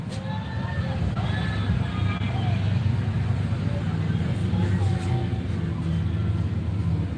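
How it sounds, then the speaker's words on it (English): Gas-powered golf carts and large trucks drive through a Florida neighbourhood in a low, continuous engine rumble, with people chatting and calling out over the motor noise. "They're riding around the golf carts. They're gas powered, making lots of noise."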